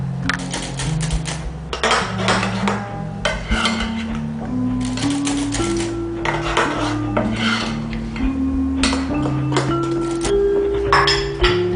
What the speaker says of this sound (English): I'm going to sift in my flour